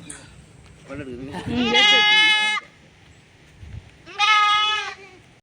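A frightened goat gives two long, wavering bleats close by, with a quiet pause between them.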